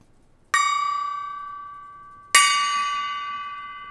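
A small bell on a budget knife's packaging or accessory is struck twice, each bright tinkling ring sharp at the start and slowly fading, close and clear over a quiet room with no talking.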